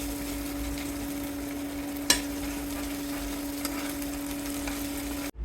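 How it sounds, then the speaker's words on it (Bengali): Garlic paste fries in a pan with onions, giving a steady, close sizzle and one sharp utensil tap partway through. "ভেজে নিব"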